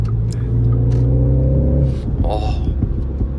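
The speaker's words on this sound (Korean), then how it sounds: "지금 사운드 제너레이터가 관여를 하면서 엔진음이 더 커졌습니다" A MINI Countryman JCW running in go-kart mode, with a sound generator boosting the engine note, gives a deep, steady rumble close up, rising briefly as someone talks over it.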